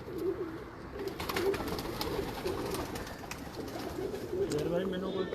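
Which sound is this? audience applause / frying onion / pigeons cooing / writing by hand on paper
pigeons cooing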